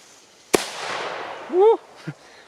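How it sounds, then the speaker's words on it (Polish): A single sharp Thor P20/P30 firecracker bang, loud and close, followed by a brief crackling tail, a short voiced exclamation and a faint pop. "Kładziemy petardę na płaskiej powierzchni, na wyciągnięte ręce, odpalamy i uciekamy"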